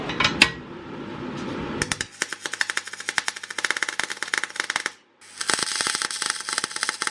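Tack welding steel cross bracing onto an E36 chassis wing mount produces sharp crackling bursts and rapid popping spatter in several runs, split by a brief silent pause, close and fairly loud with no voices.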